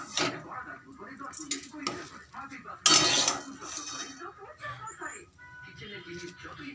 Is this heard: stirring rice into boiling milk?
yes